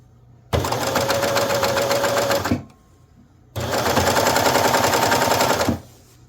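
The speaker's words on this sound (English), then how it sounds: "let's go ahead and start ruffling our strips of fabric" A serger fitted with a ruffle foot and set to a rolled edge runs in two loud, close bursts of about two seconds each, ruffling strips of fabric, with a short pause between runs and no speech.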